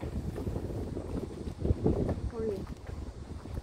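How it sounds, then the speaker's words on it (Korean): Strong wind gusts across a seaside pavilion overlooking the sea, a steady broadband rumble of wind buffeting close by, swelling briefly near the middle, with faint voices in the background. "바람이 많이 부네요."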